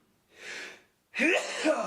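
One person sneezes close by: a breathy intake builds first, then a pause, then a loud explosive sneeze with a voiced, slightly moaning tail, with no other talk.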